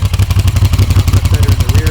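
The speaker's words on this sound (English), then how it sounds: "these cone filters make a kind of a sucker noise, especially when the choke circuit is on." A Moto Guzzi motorcycle engine with cone air filters runs close by, its loud, regular pulsing intake chuff thumping steadily at low pitch over about two seconds.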